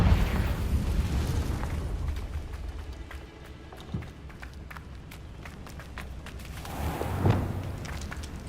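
In Hogwarts Legacy, the Confringo fire spell goes off as a few muffled booming blasts amid rumbling game noise and scattered footsteps. A heavier burst lands near the end.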